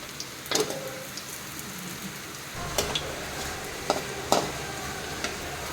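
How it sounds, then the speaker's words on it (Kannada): Crushed, peeled garlic frying in oil in a pan over a medium flame, giving a quiet steady sizzle with a few sharp pops and spatters, close up and with no talk. "ಇದು ಬೆಳ್ಳುಳ್ಳಿ ಸಿಪ್ಪೆ ತೆಗೆದ ಬೆಳ್ಳುಳ್ಳಿ ಇದು. ಅದನ್ನು ಜಜ್ಜಿ ಎಣ್ಣೆಗೆ ಹಾಕಿದ್ದೇವೆ"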